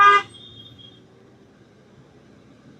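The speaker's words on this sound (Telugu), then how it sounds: "దేనికి హార్న్ కొట్టేస్తున్నావు ఇందాక నుంచి?" A single short vehicle horn toot in daytime traffic, sharp and brief at the start, followed by a low rumble of passing traffic.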